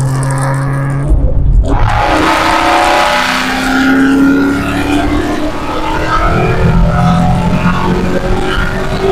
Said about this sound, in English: I'll drop her down to fourth gear. Let the supercharger work a little bit.